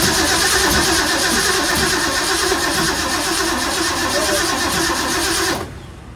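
A 1966 Ford Mustang engine cranks on and on, a loud continuous mechanical churning up close that holds steady for several seconds and then cuts off abruptly.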